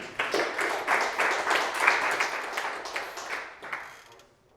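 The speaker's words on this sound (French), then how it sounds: "On peut les applaudir." At a web development demo day, an audience applauds presenters with a steady wash of clapping from a crowd indoors, holding for a few seconds before fading away.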